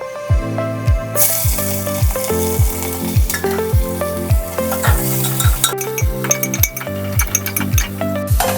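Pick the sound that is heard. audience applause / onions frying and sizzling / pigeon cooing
onions frying and sizzling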